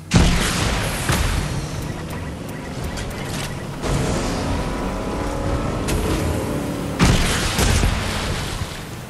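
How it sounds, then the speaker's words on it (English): Explosion in Fortnite's Rift Tour event played on a PS5: a loud low rumbling boom that sustains for several seconds, with further swells of roaring blast noise, no talking. "That's what the explosion looks like on PS5."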